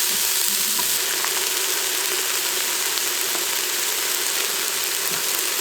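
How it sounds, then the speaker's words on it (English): Vegetables saute in a power pressure cooker on its stew setting, giving a loud, continuous sizzle that holds steady from start to finish. "those vegetables in there sauteing for no more than about 2-3 minutes."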